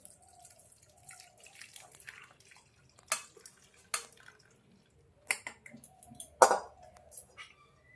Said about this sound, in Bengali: অল্প অল্প জল দিয়ে ছানাটাকে ভালো করে ধুয়ে নেব